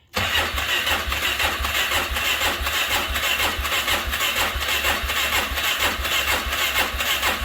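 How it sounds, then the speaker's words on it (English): A small ATV engine cranks and catches after sitting in the cold, then runs with a loud, rapid, steady chugging idle close by. "So if the ATV will fire up, then it won't be too bad."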